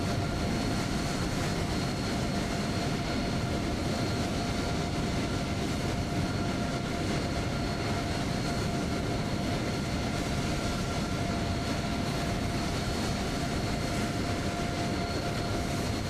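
A Cessna taking off in Microsoft Flight Simulator 2020 over Kai Tak, a steady broadband engine drone with faint tonal hum holding even and continuous throughout, no talk.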